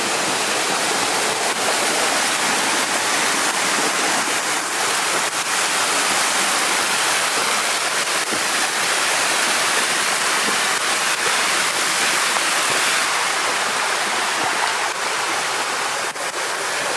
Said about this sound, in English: Check out the waterfall here, guys.